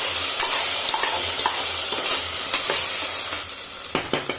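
Ginger garlic paste frying in a pan for a goat head mutton curry, a steady loud sizzle with scraping stirs and sharp clinks of a utensil against the pan, growing busier toward the end.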